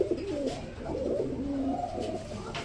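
Pigeons coo at a pigeon market, soft repeated low throaty calls overlapping close by against a busy background murmur.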